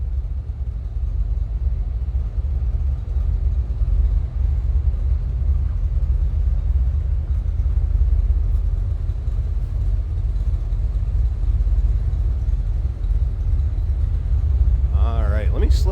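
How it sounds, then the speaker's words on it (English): A 1981 Chevrolet Camaro Z/28 idles with a steady, deep low rumble from its exhaust, heard from behind the car and continuous throughout, with a brief voice near the end. "kind of deep, throaty idle."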